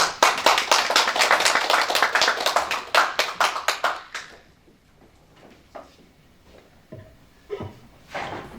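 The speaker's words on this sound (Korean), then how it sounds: "나오실 때 큰 박수로 환영해" Church congregation clapping at an anniversary worship service, a burst of applause for about four seconds that fades into scattered claps, taps and small room noises.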